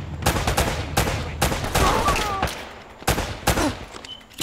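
Bursts of gunfire from the video game Uncharted: Drake's Fortune crack in a rapid, uneven series of loud close shots, some in quick volleys, with faint game effects between them.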